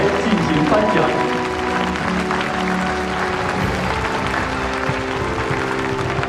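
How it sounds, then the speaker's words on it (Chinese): Steady applause from an audience at an award ceremony on stage, a continuous wash of clapping running beneath a speaking voice and background music for the whole stretch. "让我们以热烈的掌声，有请领导上台进行颁奖"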